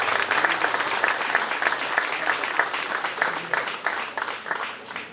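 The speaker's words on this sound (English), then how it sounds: "give these kids a big round of applause" A crowd at a county fair 4-H market beef show gives a sustained round of applause, dense clapping close and loud that gradually thins toward the end.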